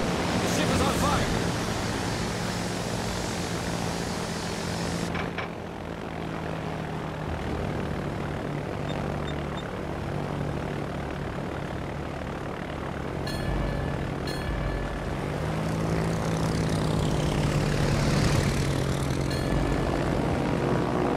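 Aircraft engines drone overhead in World of Warships, a sustained loud propeller roar that swells and fades over a rumbling battle backdrop, with a brief voice callout mixed in.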